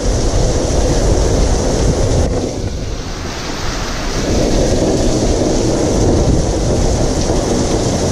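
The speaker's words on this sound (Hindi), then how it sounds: "हवा, तूफान, बारिश और हेलिंग" A village storm brings wind, rain and hail. It roars as a loud, continuous wash of wind and falling water, dips briefly around three seconds, then surges again, with no talking over it.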